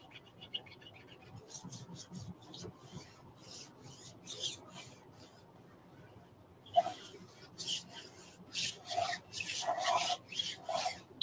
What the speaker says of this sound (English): I'm just really going to kind of burnish, especially in these larger silk screen areas.